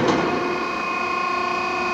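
A Model 3234 tube flaring machine runs a flaring and clamping cycle, giving a steady, close mechanical whir and hum with a brief louder onset, continuous for the whole two seconds with no talk.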